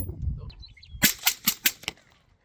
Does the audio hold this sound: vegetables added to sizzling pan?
no